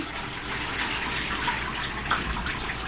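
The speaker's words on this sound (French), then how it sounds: "je vais vous laisser rincer en arrière" Water runs steadily as soap is rinsed off a person's body during a class, a continuous splashing wash with no voices over it.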